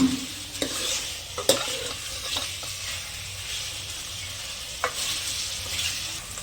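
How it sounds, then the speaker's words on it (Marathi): Fish in masala being stirred in a pan, a steady scraping and stirring with soft sizzling underneath, a few sharper utensil knocks standing out near the start and again later, no talk. "आता हा तो मसाला सर्व मिक्स आहेत मस्तपैकी हलवून घेऊया"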